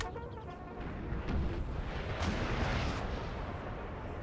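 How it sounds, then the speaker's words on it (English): Cannon fire in the Napoleon: Total War battle, heard as a series of heavy booms and rumbling artillery blasts over a continuous din of battle noise. "Cannon shots bouncing all over the place."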